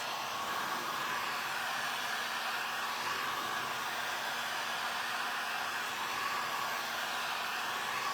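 A hair dryer blows steadily and loudly for the whole stretch, drying a freshly decoupaged vintage tray, with a constant whooshing airflow and no talking.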